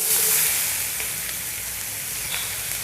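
Onions sizzle and fry steadily in hot oil just used for cooking karela, a continuous close hiss with faint crackles and an occasional stir, no talking.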